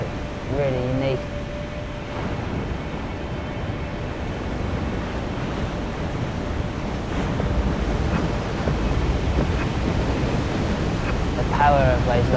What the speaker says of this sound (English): Some of the most interesting situations are around big, heavy waves.